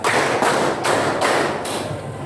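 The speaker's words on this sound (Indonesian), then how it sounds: "tepuk empat" A classroom group claps in a quick rhythmic clap pattern led by a teacher, several sharp, roomy claps in steady succession at even spacing.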